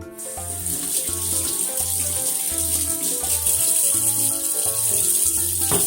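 Tap water running steadily into a sink while eggplant and cucumber are washed under it, with a constant splashing flow and background music playing throughout.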